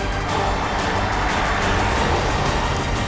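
A car engine hums with a broad rumbling road noise as the vehicle drives off, a continuous near sound of steady loudness with no talk over it.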